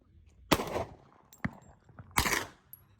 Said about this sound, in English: Shooting high, Nick.